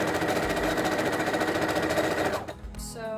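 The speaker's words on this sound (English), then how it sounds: "start at one point and then sew literally all the way" A sewing machine runs at steady speed, stitching a seam across the fabric of a pleated under-tunic for a Kylo Ren costume. The loud, even whir stops after about two and a half seconds, and a brief voice follows.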